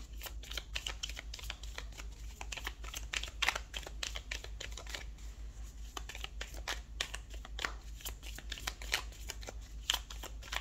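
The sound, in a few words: tarot cards being shuffled and drawn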